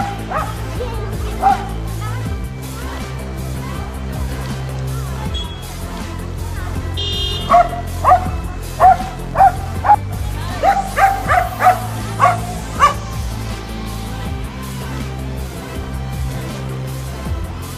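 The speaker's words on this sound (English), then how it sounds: "Unless you want to get barked at, you better stop for this canine crossing guard that's on patrol." A dog acting as a crossing guard barks in a quick series of sharp, close barks, with an electronic beeping tone and steady traffic-like background noise behind.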